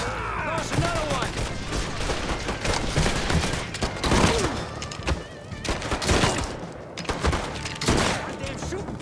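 Dense gunfire in the Mafia III video game: rapid overlapping shots and bursts fill the scene at high intensity, with shouted in-game voices over the shooting.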